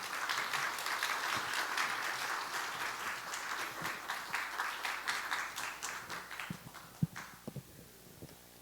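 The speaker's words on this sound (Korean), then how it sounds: "우리 나오실 때 크게 환영의 박수로 맞이하겠습니다" A church congregation applauds to welcome a deaconess coming up to give her testimony at an autumn faith gathering. The clapping is steady and fairly distant at first, then thins into a few scattered claps.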